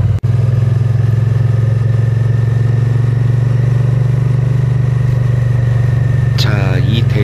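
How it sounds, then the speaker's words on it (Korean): A Royal Enfield Interceptor 650 motorcycle exhaust drones steadily while riding, a constant low, heavy engine note with wind noise, and a short voice breaks in near the end. "조금 더 중저음에 가까운 묵직한 그런 배기음을 뽑아주고 있더라고요."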